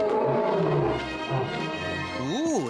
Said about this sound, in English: Ooh, there's a pretty roar. You don't often hear roars like that.